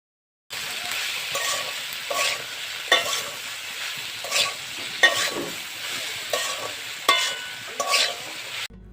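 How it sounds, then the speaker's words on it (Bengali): Okra fries on a medium flame in a pan, giving a constant sizzle punctuated by regular scraping strokes of a spatula as it is stirred, fairly close and without speech. "কিছুক্ষণ নেড়েই আবারও আমি ঢেঁড়সে দিয়ে দেব হাফ চা চামচ লবণ। লবণ দিয়ে আবারও নেড়ে নিব।"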